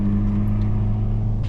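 Hyundai i30N exhaust echoing inside a tunnel, a loud, steady low engine drone with a strong hum, no talk over it.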